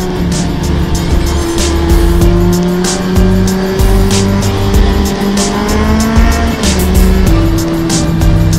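A Kawasaki motorcycle rides through city traffic, its engine droning steadily with shifting pitch as it accelerates, loud and close throughout, with rushing wind and road noise over it.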